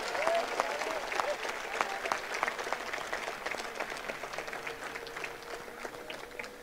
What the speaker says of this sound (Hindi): ये नस्ले नौ के तमाम शायरों के लिए आप एक दफा तालियां बजाइए